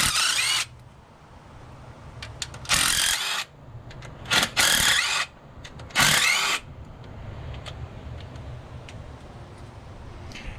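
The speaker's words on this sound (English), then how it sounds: "I am going to be using an impact here to make it a little bit quicker" An impact wrench zips out intake manifold bolts on a Bronco's 351W during a head gasket repair, sounding in four short, loud rattling bursts separated by quiet workshop background.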